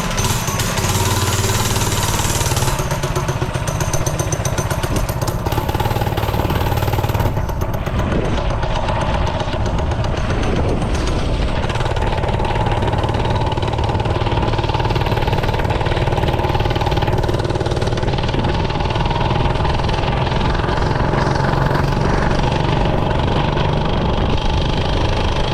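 A small engine on a Barbie Dream scooter converted into a minibike runs loud and near for the whole stretch. It is a continuous buzzing drone that starts a bit harsher and then settles into a steady rough idle.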